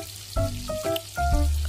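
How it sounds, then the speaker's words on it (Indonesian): Red chilies frying in hot oil for sambal terasi, crackling in close, bursty sizzling pops that come in a few loud surges over steady frying noise. "ini gorengnya ini yang agak menakutkan saat si cabenya meletup"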